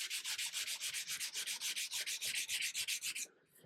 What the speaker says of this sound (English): You can play around, reorientate your sandpaper, concentrate on those areas.